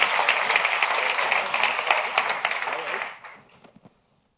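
An audience at a science publishing presentation claps for the opening speaker, loud and dense for about three seconds before fading into a few last scattered claps.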